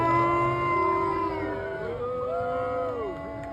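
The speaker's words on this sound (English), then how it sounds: "As Trump's motorcade approached the summit in The Hague, boos rang out from crowds near the royal palace" Crowds near the royal palace in The Hague boo and jeer as Trump's motorcade approaches, drawn-out wavering howls of many voices blending together, loud and sustained with rising and falling tones.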